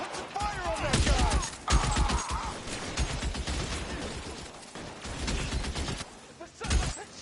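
Close gunfire crackles in a tense armed confrontation, with repeated sharp shots and bursts mixed with clattering impacts, while people shout and talk over the shooting.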